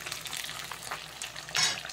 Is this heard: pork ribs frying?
yes